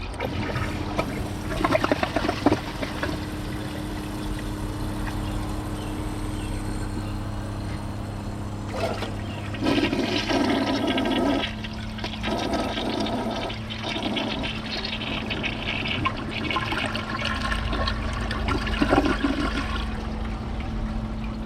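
A Kohler Highline Class 5 toilet flushes with a rushing, swirling gush of water over a steady low hum, then settles into a longer refill trickle and hiss.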